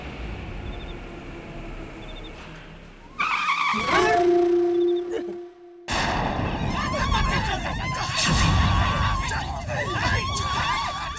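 A car brakes to a sudden stop with a sharp tire skid and screech, set among loud dramatic musical hits and a brief silent gap, with some voices in the mix.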